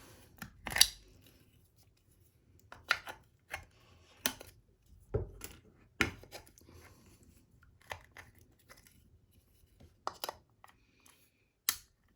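Scissors snip through plastic tumbler rails in a dozen or so sharp, separate cuts spaced irregularly across a quiet background, close and crisp, with no talking.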